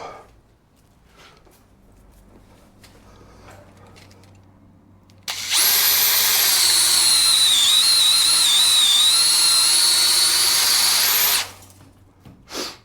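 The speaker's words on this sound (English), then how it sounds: "if we run a drill down that now, that should empty that out" A power drill whirs loudly and steadily for about six seconds at a high, slightly wavering pitch, drilling out an accelerator cable crimp, then cuts off, with quiet room noise before and after.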